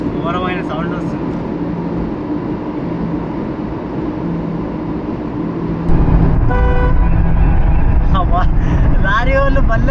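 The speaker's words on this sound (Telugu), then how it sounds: "లారీ వాళ్ళు భలే హారన్ కొడుతున్నారు" Truck horns honk repeatedly inside a road tunnel, loud and echoing over the steady roar of traffic, with several sharp toots in bursts and a louder rush of passing vehicles later on.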